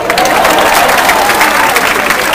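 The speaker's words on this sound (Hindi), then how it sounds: "साहब लाओ तालियां जाओ जी" Audience applause at a live Punjabi comedy show in the UK, a dense steady clatter of clapping mixed with crowd noise, loud and continuous throughout with no gaps.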